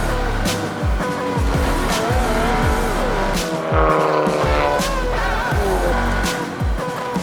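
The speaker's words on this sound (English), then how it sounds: "here we go, Chris Bialan in the Cupra, who gets away best" Race cars, a Cupra among them, roar away from the start in a loud, dense pack, engines revving and shifting with sharp rising and falling whines and some tyre squeal, the noise sustained throughout with no talk.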